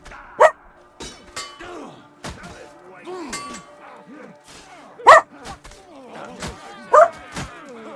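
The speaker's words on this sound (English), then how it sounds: "What are you barking" A dog named Yeti barks in several sharp, loud bursts spaced across the stretch, with a voice talking between and over the barks alongside game sounds.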